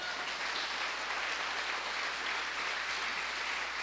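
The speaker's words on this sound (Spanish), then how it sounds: "Dale un fuerte aplauso." A church congregation gives a strong round of applause, a dense, steady clapping that fills the space without a break for several seconds.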